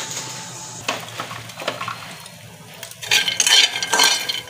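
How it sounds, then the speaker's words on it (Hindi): Raw peanuts roast in a pan over a gas flame, giving a soft, uneven rustle and scrape of kernels being stirred that grows louder and denser toward the end. "ये दोस्तों मैंने डाल दिया देखो मूंगफली के दाने कच्चे हैं इनको भूनूंगी लाल करूंगी"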